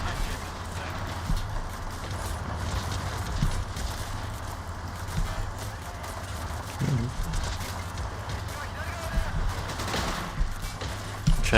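Machine-gun fire from a World War battle in Men of War, a dense, continuous rattle of automatic weapons that runs throughout with no voices over it.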